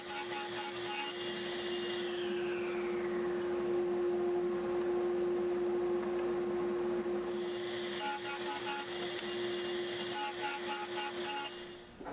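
A table saw with its blade set about 1/16 inch high runs two shallow grooves down picture frame stock; a steady motor hum and whine with rougher cutting noise near the start and again later, no talking.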